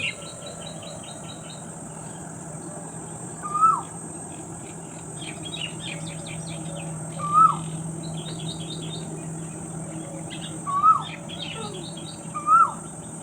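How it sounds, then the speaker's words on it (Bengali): Birds call outside a window at midday, giving four short, clear whistled calls spaced a few seconds apart over steady insect chirping and a faint background hum, with no talking. "দুপুরবেলাটাতে আমি এই জানলার পাশে দাঁড়িয়ে থাকি শুধুমাত্র এই পাখির ডাকগুলো শোনার জন্যে।"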